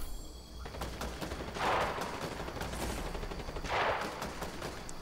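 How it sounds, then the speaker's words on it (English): Several players trading gunfire in a Fortnite match, a dense fusillade of rapid shots at mid distance with two louder bursts standing out from the steady crackle. "There's three people shooting, I think."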